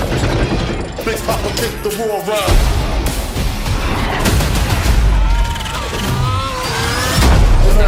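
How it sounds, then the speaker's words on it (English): An RC-XD remote-control car blowing up a tank in the Black Ops Cold War video game trailer: loud, dense action audio with gunfire bursts, mechanical clatter and heavy booming impacts swelling toward the end. "RCXD blowing up the tank."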